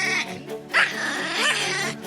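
A dog lets out a quick run of high, close barks and yips, excited and strained with a whining edge.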